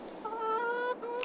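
A single game chicken clucks close and clear in a short drawn-out call from a farming game's coop, with a quick second note at the end.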